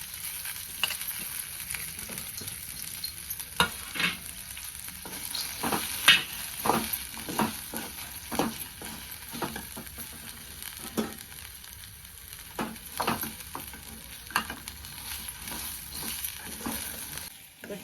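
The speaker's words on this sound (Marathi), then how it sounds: "मटकी अगोदर आपल्याला भाजून घ्यायचे" Moth beans crackle and rattle as they dry roast in a pan, with repeated scraping stirs at an uneven rhythm throughout.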